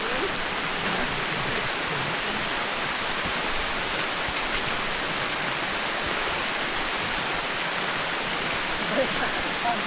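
Steady rain falls during a mountain hike, a dense even hiss that stays constant throughout, with a voice faintly present beneath it.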